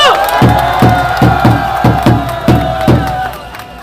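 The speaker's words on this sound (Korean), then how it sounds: "우리 네 분 의원님께 다시 한번 뜨거운 박수 보내주십시오" A large outdoor crowd at a candlelight political rally near the National Assembly cheers loudly with steady rhythmic clapping roughly every half second, the roar close and dense, fading slightly at the end.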